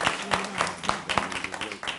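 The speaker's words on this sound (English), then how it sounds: "let's give all the folk who were a part of tonight a round of applause" Scattered claps ring out from the audience at the City of Riviera Beach 2018 candidate forum, a fairly quiet patter of separate hand strikes over about two seconds.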